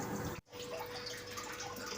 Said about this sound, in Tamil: துவைச்சிட்டும் இருக்குது மிஷினு. உள்ளே வந்து தண்ணி ஊற்றுது.